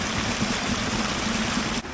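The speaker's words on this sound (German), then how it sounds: "Deswegen werde ich jetzt hier die leeren Wasserflaschen hier auffüllen." Empty water bottles filled outdoors from a clear stream, with the constant rush and trickle of flowing water close by, steady and fairly loud throughout.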